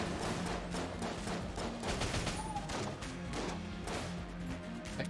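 Grenades go off in Enter the Gungeon, a quick string of sharp pops and crashing blasts in irregular succession over busy game noise, fairly faint overall.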